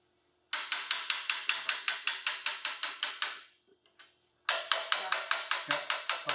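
Rapid metallic taps strike a magnet against an Olds Recording trombone to lift small dents, a bright even series of ringing hits that pauses briefly and then resumes, close up.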